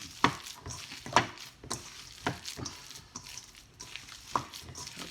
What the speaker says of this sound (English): knead it together with your hands